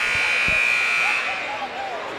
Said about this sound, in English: The buzzer goes off